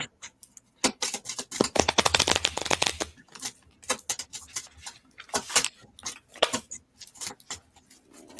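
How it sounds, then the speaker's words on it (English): Tarot cards are shuffled repeatedly, with crisp riffling flutters and sharp slaps, sometimes in rapid runs and sometimes in scattered taps, close and fairly loud. "as the readings go, my shuffling gets louder and louder"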